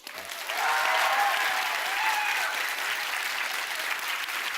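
An audience claps to welcome a panelist at a talk on designing content, the applause rising quickly after a brief lull and holding steady and full to the end.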